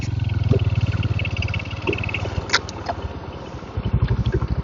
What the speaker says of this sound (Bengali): এখানে একটা পাম্প রয়েছে, হাওয়া দেওয়া মেশিন, হাওয়া দিন গাড়িটাতে